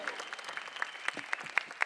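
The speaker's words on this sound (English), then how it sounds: "A round of applause for Karan Johar" A stage audience clapping for Karan Johar, a thin, fairly distant patter of scattered claps at a moderate level.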